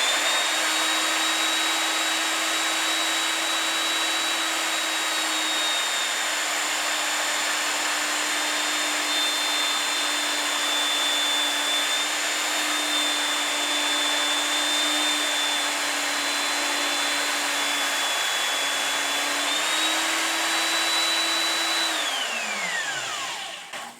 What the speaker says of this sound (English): let's just use the belt sander and round off the corners.